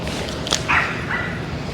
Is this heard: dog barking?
yes